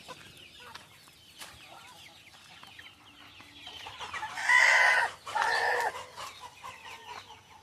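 Chickens eating grass cluck softly with scattered calls, then two loud bursts of rooster-like squawking stand out near the middle before fading back to quiet clucking.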